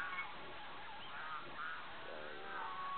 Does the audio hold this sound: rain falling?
no